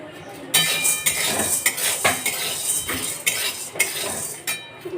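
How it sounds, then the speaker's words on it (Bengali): Chana dal is stirred while frying in a metal pan over a gas stove, with a spoon repeatedly scraping and clinking against the pan in irregular, close strokes. "আমি ছোলার ডালটাকে ভালো করে ভেজে নেব প্রথমে।"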